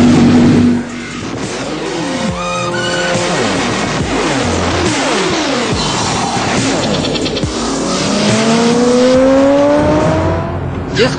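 Motorbikes of a bikers' gang rev and roar while doing risky stunts on Delhi roads, with loud continuous engine noise and rising and falling pitch sweeps as the bikes accelerate and pass close by.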